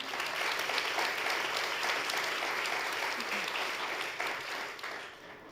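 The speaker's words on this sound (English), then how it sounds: "Give them a nice round of applause to get us going." Sustained audience applause at a panel event on climate change and energy systems, a dense, fairly loud wash of clapping that holds steady for the whole stretch and eases off slightly at the end.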